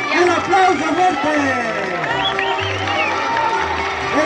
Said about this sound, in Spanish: ¡El aplauso, señores! ¡El aplauso fuerte!